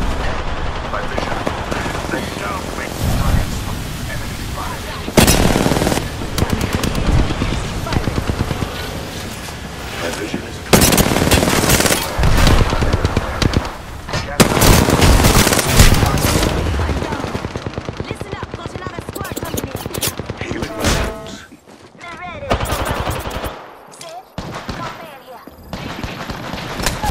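Gunfire in the video game Apex Legends: loud, dense automatic bursts and shots continue almost without a break, with character voices talking over the shooting.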